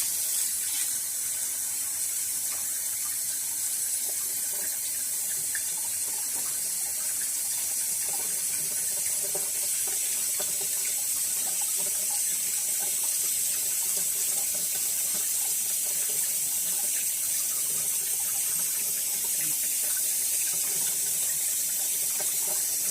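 Tap water runs steadily for a long stretch as shampoo bar lather made with aloe vera and basil is rinsed away, a continuous close hiss and splash with no break.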